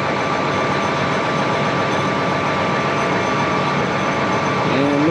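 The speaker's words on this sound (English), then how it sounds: "We're going to start the machine up, make sure that we have that leak fixed right there" A heavy machine runs just after a leak repair, putting out a loud, constant mechanical roar and rumble that holds steady from start to finish.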